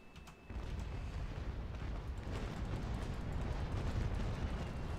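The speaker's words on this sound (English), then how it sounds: "I'll turn back and throw him some broadsides while I can." Ship cannon broadsides roar in the naval battle game Naval Action, a dense rumbling barrage of deep booms that swells after a brief quiet start and continues low and heavy throughout.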